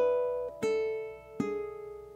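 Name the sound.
ukulele playing bar 4 of rock riff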